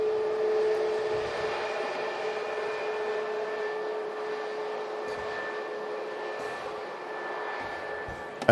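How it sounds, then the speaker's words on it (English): Scandinavian Airbus A320neo airliner taxiing out at Manchester Airport, heard from the runway visitor park as a steady, moderately distant engine hum and whine that holds evenly throughout with no talking. "we have the Scandinavian A320 Neo heading out to Copenhagen"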